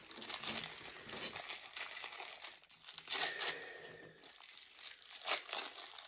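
Plastic packaging from a Marvel Legends Skrull two-pack crinkles and crunches up close as the trash is gathered and cleared away, in several bursts with short quieter gaps.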